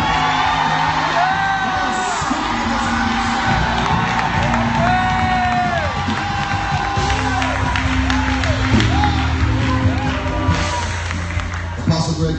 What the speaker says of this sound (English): Scream in this house.